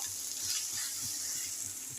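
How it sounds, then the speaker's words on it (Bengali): Ginger-garlic paste and onion fry in a pan, giving a steady, soft sizzling hiss that continues evenly without any talking. "আদা রসুনটা আমি ভালো করে ভাজা করে নিয়েছি। আর পেঁয়াজটা"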